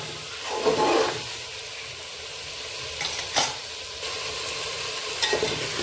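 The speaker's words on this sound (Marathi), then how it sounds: "एक 5 ते 7 मिनिटासाठी सर्व भाज्या आपण अशा छान तेलामध्ये आलं लसणामध्ये परतून घेतल्या" Mixed vegetables stir-frying in oil with ginger and garlic for a vegetable paneer pulao, with a continuous close sizzle broken by a few louder bursts of stirring and scraping.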